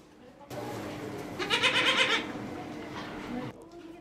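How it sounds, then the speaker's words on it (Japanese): Newborn goat triplets bleat softly in a barn, a burst of thin high cries rising over steady low background noise, fairly faint and moderately close. "先月30日に生まれたばかりのヤギの三つ子"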